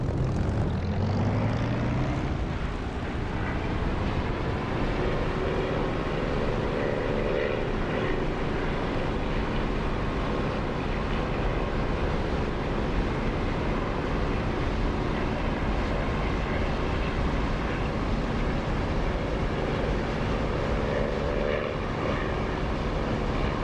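Propeller aircraft engine in the DCS flight simulator, loud and steady as it climbs away after a break-off maneuver, a constant drone with a rising tone in the first seconds, continuous throughout with no talk.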